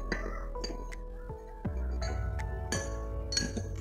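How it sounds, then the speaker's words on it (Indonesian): Spoonfuls of sugar tipped into a glass during a colligative-properties experiment, with several light clinks and taps of spoon against glass in a quiet room, spaced irregularly over a few seconds. "masukkan 2 sendok gula ke dalam gelas yang berlabel air plus gula."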